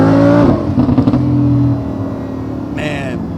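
A Lamborghini Huracan supercar with carbon ceramic brakes driving, engine note heard from inside the cabin, loud at first then easing to a steadier hum as it settles.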